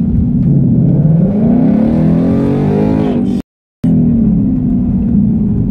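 A loud 2018 Mustang GT engine revs up, its pitch climbing steadily as the car accelerates hard, then cuts briefly to silence before the roar resumes.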